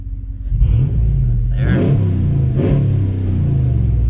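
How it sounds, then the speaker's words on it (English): RAM truck engine revving up twice in quick succession, deep rumbling idle swelling into two rising roars close by, then settling back to a steady low drone. "But if you rev it up"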